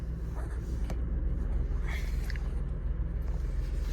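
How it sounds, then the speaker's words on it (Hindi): A Tata Tiago car engine idles on CNG with a low, steady rumble close by, a few faint clicks and squeaks over the hum. "अगर आपको आवाज़ सुन रही है गाड़ी की तो आप सुन सकते हैं एक बार इंजन की साउंड"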